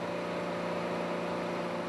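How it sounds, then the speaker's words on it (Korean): Loud, steady drone of a skate fishing boat's engine room at sea, a continuous mechanical hum with strong tonal bands and no breaks, filling the whole space with no talk. "소음 가득한 엔진실이다."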